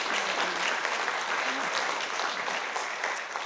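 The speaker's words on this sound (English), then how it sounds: "Another hand clap for that" Continuous hand-clap applause fills a room at a leadership forum and awards celebration, dense, loud and even from start to finish before fading slightly at the end.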